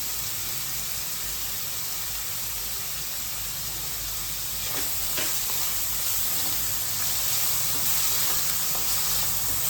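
Onions with salt fry in a pan, giving a steady, continuous sizzle and hiss close by, with no one speaking.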